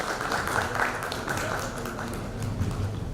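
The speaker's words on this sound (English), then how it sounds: "A big round of applause please from everyone present in the hall." Steady, dense applause from an audience filling a hall at a medical oncology conference, a continuous wash of many hands clapping at even loudness throughout.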